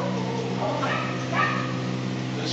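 Dogs bark and yip at an SPCA animal shelter in Hamilton, a steady run of barking with whimpers mixed in, close and fairly loud, with a voice speaking faintly underneath.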